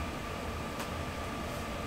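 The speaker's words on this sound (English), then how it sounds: "I hear the hot end and I hear the power supply fan" Hot end and power supply fans of a running Creality CR-10 Max 3D printer make a steady, fairly quiet whirring hum that stays even throughout.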